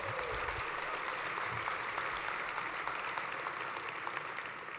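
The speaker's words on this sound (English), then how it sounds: "this person deserves a huge round of applause" Applause from a large audience at a celebration of life gathering, a continuous, even roar of clapping heard from some distance, steady and fairly soft, with no speech over it.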